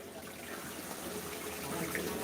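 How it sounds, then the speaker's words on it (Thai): Water gushes in a steady, continuous rush as it is released into a frog pond on a farm, with no break over two seconds. "เรา ปล่อยน้ำลงไปนี้"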